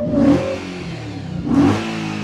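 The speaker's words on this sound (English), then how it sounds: "Can I give it a rev?" A 4.2-litre V8 car engine is revved twice, each blip rising sharply and then settling back to a rough, loud idle, with no talk over it.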